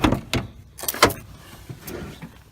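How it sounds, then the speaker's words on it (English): A stuck rear door on a Honda Civic EF sedan is worked open, giving a few sharp clunks and latch clicks in uneven bursts, close and moderately loud, with faint rattles between them. "Now I'm gonna get this door open."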